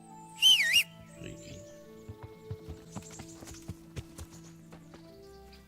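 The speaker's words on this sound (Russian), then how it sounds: "Вы можете в любой момент подозвать свою лошадь при помощи свиста." A sharp whistle summons a horse in Kingdom Come: Deliverance, followed by the rhythmic clip-clop of hooves approaching and growing steadily louder, with a brief spoken word near the end.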